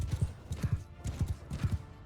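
Cavalry horses gallop across a battlefield in Mount & Blade II: Bannerlord, a close, steady drumming of hooves in repeated clusters of beats, with a faint whinny mixed in.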